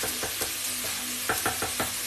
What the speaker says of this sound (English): Give that a stir as well.